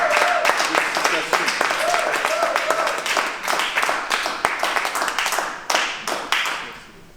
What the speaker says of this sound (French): je demande qu'on applaudisse très fort